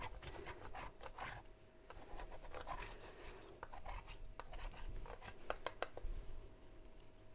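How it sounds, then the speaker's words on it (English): A small piece of dark chocolate is grated over a high-fibre cake, giving faint, quick rasping scrapes in short repeated strokes, close and quiet with no talking. "I'm going to just grate a bit of chocolate on here."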